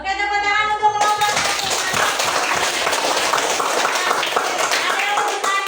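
Applause for a student group in a classroom lesson: dense clapping from many hands starts after a short tonal opening and continues steadily at close range to the end.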